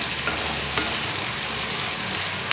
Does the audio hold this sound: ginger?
yes